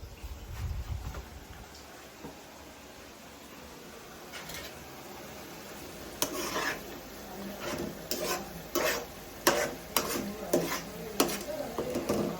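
Whole fish frying in a pan for a village-style Indian fish curry, with a steady low sizzle under scattered sharp scrapes and clinks of a utensil against the pan, growing busier toward the end.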